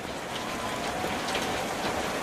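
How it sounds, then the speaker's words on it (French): Steady rain falls at the finish area of a bike race, a dense, even hiss of drops on surfaces that continues without a break, loud and close. "Je suis à l'arrivée et il pleut."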